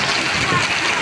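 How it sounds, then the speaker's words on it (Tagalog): Floodwater from heavy rain rushes and splashes in a loud, continuous broadband wash close by, with a voice faintly talking over it. "Pero yan yung tubig na baha na."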